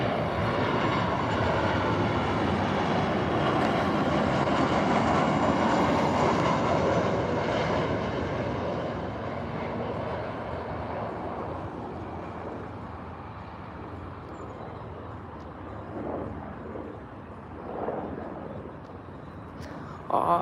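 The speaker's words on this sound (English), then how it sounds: "And then now we have a 737" A WestJet Boeing 737 airliner rumbles past at Calgary airport, a broad loud jet roar that swells early and then fades into the distance, leaving quieter background.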